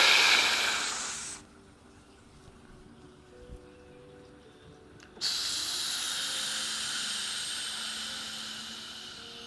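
A deep breathwork inhale, drawn hard and hissy with airy rushing noise, with a quiet pause in the middle before a second long, loud intake of breath resumes.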